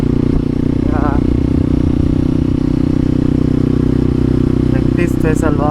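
A motorcycle engine holds steady at around 3000 RPM in fourth gear under gentle throttle, a loud continuous drone with wind noise, while someone talks over it.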